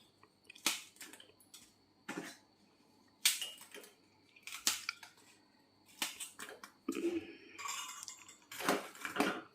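Sugar-free rusks being crushed into oats, producing a series of dry, crunchy crackling bursts separated by short pauses, close and fairly quiet, with no talking.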